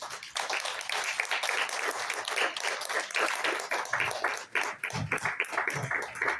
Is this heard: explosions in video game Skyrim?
no